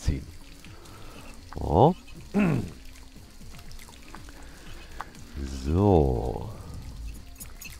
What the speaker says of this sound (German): So, zack, gleich unter die Dusche mit dir.